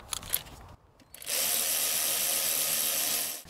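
A power driver tightens the air intake boot clamp on a 2005-2012 Toyota Avalon, a short burst of sustained, steady whirring after a brief soft clatter, close and loud with no talking.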